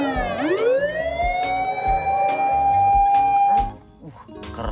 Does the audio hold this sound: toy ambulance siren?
yes